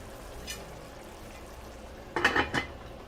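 A metal lid set down on a pot of simmering spicy rice with peppers and sausage: a faint clink early, then a louder cluster of two or three close clanks near the end over a quiet kitchen background.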